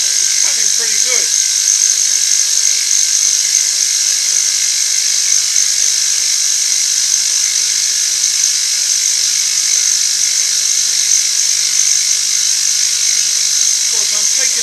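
A machine tool cuts metal while machining a ram held with one clamp on an angle block, producing a loud, steady, high whine that runs unbroken for the whole stretch. Brief speech is heard near the start and again near the end.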